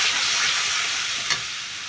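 Spices hiss and sizzle in a hot pan with ginger paste, onion, chili powder and turmeric, a steady bright frying wash with one brief scrape of stirring partway through.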